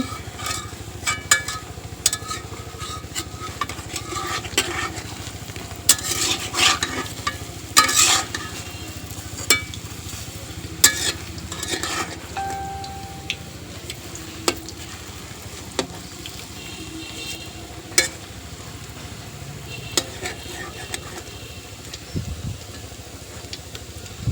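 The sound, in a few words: lentil fritters (dal bora) frying in oil, being flipped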